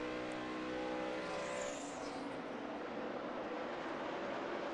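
At Charlotte's Coca-Cola 600, a 2010 NASCAR Sprint Cup race, stock cars roar together at speed after a restart, a dense, loud, sustained engine drone with a passing whine early on and no voices.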